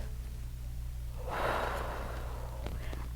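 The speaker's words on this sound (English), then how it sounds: "In through our nose." A slow nasal inhale during a children's breathing warm-up, heard as a soft, broad rush of air that swells for about a second over a steady low hum, followed by faint rustling.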